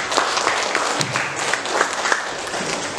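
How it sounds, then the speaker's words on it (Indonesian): Sustained audience applause fills a hall at the opening ceremony of a Quran memorization competition (Musabaqah Hifzil Quran), many hands clapping steadily and fairly loudly for about three seconds with no one speaking. "Kita berikan aplaus."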